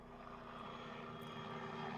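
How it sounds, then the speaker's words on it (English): A military helicopter flies overhead, its steady droning rotor and engine rumble holding constant and slowly growing louder, with no talking. "Let's let the helicopter pass."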